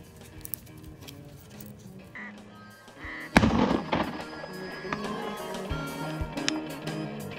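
Shotgun shots while duck hunting outdoors, a sudden loud blast followed by ringing rumble and continued sharp reports over steady background noise.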